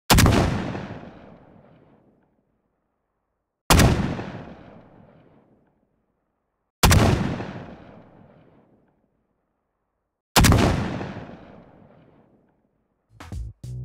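Four heavy layered gunshot sound effects, evenly spaced a few seconds apart, each loud and punchy with a long echoing rumble that fades before the next shot.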